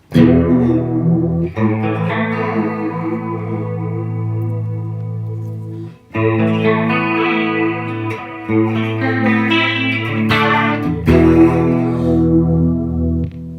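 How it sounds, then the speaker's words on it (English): An electric guitar through a Sonicake 5th Dimension mini pedal on flanger settings rings out sustained chords with a sweeping, spacey jet-like swirl, several strummed phrases separated by brief pauses, with no talking. "pretty spacey flanger stuff"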